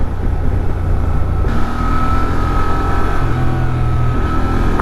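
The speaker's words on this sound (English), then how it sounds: "you just turn the throttle without much happening." Engine of a 2023 Honda Transalp XL750 motorcycle pulls as the throttle opens, a loud, close drone under rushing wind that climbs slightly in pitch while riding.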